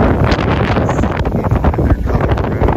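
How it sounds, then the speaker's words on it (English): Strong wind on a very windy day buffets the microphone in a steady, loud roar, with no clear voices over it. "And it's also a very windy day,"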